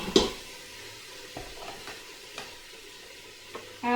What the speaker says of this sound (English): And I'm adding the pepper and the onion.